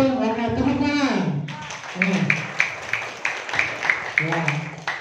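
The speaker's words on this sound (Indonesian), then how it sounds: "oke, tepuk tangan" Classroom audience applause after a quiz answer during a lesson, a burst of clapping rising after a short spoken phrase and continuing in uneven, close rhythmic claps under brief talk.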